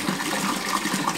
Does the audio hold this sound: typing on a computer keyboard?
no